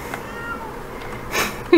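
Madam Rose, a pet cat, lets out one short meow at the very end after a quiet room stretch, near and fairly loud.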